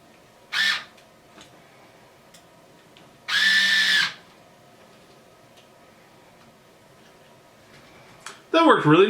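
A small Creality electric screwdriver drill removes screws in two short whirring bursts about a second long, separated by quiet, close and fairly loud, followed by a brief higher whining sweep at the end.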